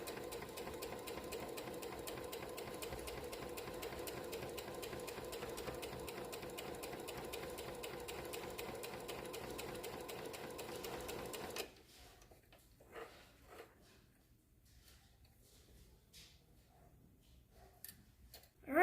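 A sewing machine stitches in a fast, steady whir for about twelve seconds, then stops, leaving quiet handling noises and faint clicks.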